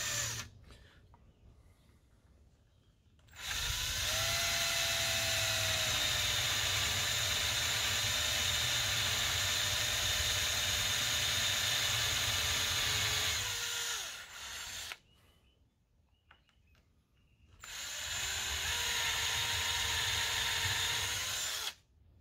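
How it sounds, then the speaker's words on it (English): A power drill bores a large hole through a nearly finished 60mm lipless crankbait fishing lure, whining loud and close in one long steady burst, then a pause and a second shorter burst. "drill a dirty great big hole through your near finished lure."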